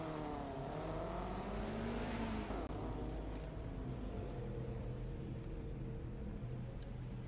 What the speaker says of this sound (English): Robert Demarest out there on track in the number 89 WRX